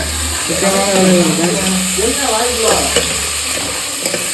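Onions and tomatoes sizzle steadily in a hot pan with stirring scrapes for a fish curry, while a person talks over the frying.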